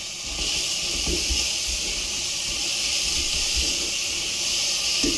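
Onions and garlic sizzle steadily in a hot pan, a close, continuous hiss with faint crackles, alone and without talk.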